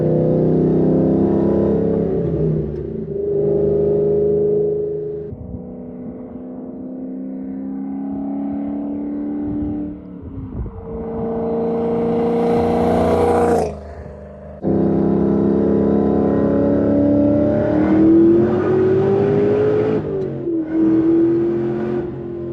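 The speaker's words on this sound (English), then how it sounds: "My God, is that blower torque fun." A powerful supercharged SVT Cobra Terminator engine roars and revs up repeatedly, climbing in pitch with a whining blower, loud and close, briefly dropping off between pulls.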